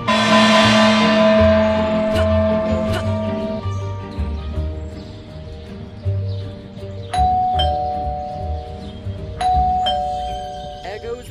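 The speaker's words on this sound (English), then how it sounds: "There goes that stupid bell again." A doorbell rings in the video game Scary Teacher 3D, sounding as bright chiming ding-dong tones that recur several times over a steady low game backdrop.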